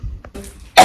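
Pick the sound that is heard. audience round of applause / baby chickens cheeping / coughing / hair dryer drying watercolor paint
coughing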